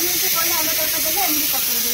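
Loud steady hiss of egg tadka sizzling in hot oil, close up, with indistinct voices murmuring underneath.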